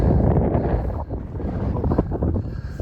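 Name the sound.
wind blowing on a fell walk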